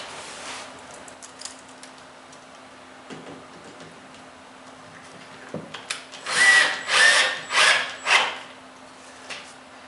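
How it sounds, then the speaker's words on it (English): A power drill whirs in several short bursts, driving screws into a wooden cabinet during assembly, after quieter handling and tool clicks; the bursts are loud and close. "If you've got a better drill with a clutch, you can depend that it's going to stop"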